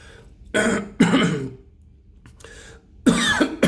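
A person coughs repeatedly in rough bursts, with pauses between fits, close to the listener and fairly loud.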